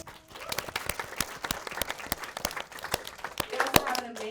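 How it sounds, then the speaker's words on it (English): Audience applause at a university book event celebrating a newly published University of California Press book on unaccompanied migrant youth, a modest crowd clapping steadily with a few sharper individual claps standing out near the microphone. "Clap it up for that."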